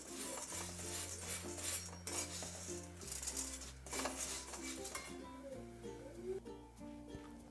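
Ragi puffs being stirred and roasted in a pan, with repeated scraping and clinking of a spoon against metal in an uneven rhythm, fairly quiet and close.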